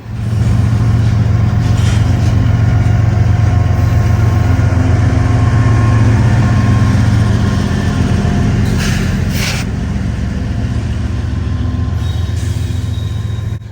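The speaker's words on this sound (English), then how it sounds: "Some hotshot intermodals like this one here simply can't be bothered to stop and rest" Hotshot intermodal freight train rolling by in Greenville, South Carolina, a loud, continuous rumble and engine drone with rhythmic wheel clatter that stays steady and close throughout.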